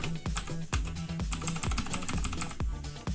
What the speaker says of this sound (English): We got keyboard sounds